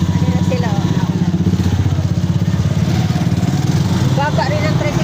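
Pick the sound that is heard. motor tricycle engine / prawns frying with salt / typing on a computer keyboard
motor tricycle engine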